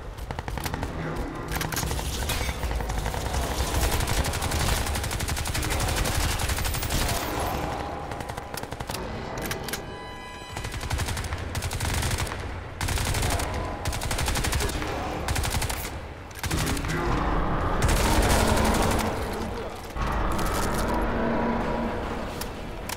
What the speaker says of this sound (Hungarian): Nem rossz ez a kis pisztoly se.